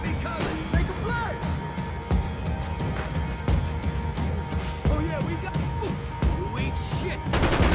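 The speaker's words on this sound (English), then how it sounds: "Gunfire over Hoboken." Rapid bursts of Max Payne video game gunfire and impacts crackle over a dense, busy game soundscape, with talk mixed in throughout.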